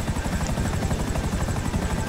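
Helicopter in a video game, a loud, steady rotor chop and engine drone that fills the whole moment without a break.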